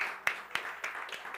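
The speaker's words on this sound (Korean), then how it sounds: "하나님께 영광의 박수 올려드리겠습니다" A church congregation applauds during a Sunday worship service, heard as a short burst of sharp, scattered handclaps that pulse in several distinct peaks and then taper off.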